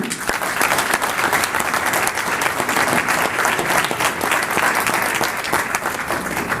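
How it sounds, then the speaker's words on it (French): Sustained audience applause welcoming a guest onto a panel, a thick, even wash of clapping from a sizable crowd that stays loud throughout with no voices. "Je vous demande de l'applaudir."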